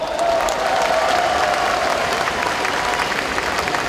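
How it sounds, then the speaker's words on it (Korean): A crowd at a party convention in Seoul applauds leadership candidates: loud, continuous clapping at an even level throughout, with murmuring and a faint cheer mixed in. "이분들을 격려하는 박수 한번 보내드릴까요?"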